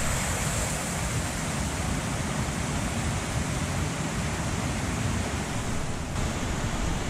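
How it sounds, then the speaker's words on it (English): A steady, dense roar of falling water fills the air without pause, close and fairly loud, with no voices. "the sound of the waterfall was pretty relaxing"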